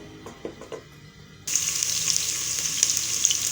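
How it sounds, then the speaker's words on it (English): Onions for pilau are fried in a pan. Quiet kitchen clatter comes first, then a loud, steady sizzle of frying begins abruptly and continues hissing to the end. "As you can see, the onions are frying, and we'll wait for them to become brown."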